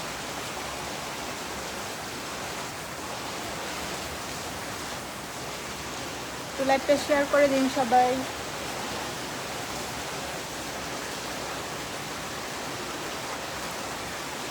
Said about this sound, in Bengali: অনেক বৃষ্টি হচ্ছে বাহিরে।